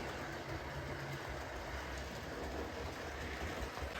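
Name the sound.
train running on track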